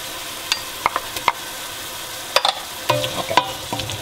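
Onion sautéing in a pan for a Peruvian stewed cauliflower dish gives a soft, faint sizzle under a few scattered clicks and scrapes of stirring, with no talk.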